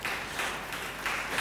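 An audience claps at a Tamil Christian Bible study gathering, steady applause in bright swells that rise and fall over a second and a half at moderate volume.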